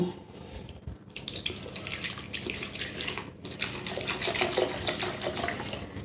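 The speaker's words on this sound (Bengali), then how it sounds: "এরপরে জল দিয়ে দেব।" Water pours steadily into a cooking pot of dal seasoned with minced garlic, a continuous splashing gush that builds slightly in loudness, with no voices.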